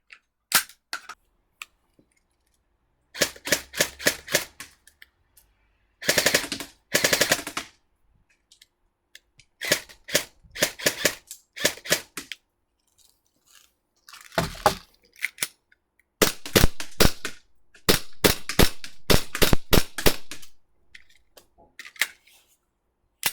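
A toy gun fires in rapid bursts of sharp cap-like cracks, several clustered volleys separated by short silences, loud and close with no talking.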